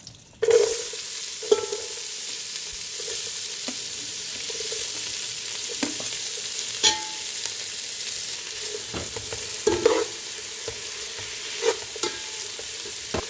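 Onions frying in butter for chicken curry give a steady, close sizzle for the whole stretch, with occasional sharp scrapes and clicks from stirring and no talking.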